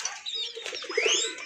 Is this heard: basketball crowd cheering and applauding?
no